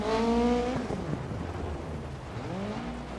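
A rally car drives on the Rally of Argentina power stage, its engine note rising and then dropping sharply as the driver lifts off, then building again. The engine sounds at moderate distance, alone, with a steady rough background.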